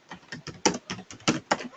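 Keys clack on a computer keyboard in a quick, uneven run of close, fairly loud taps with short pauses between bursts; nobody speaks.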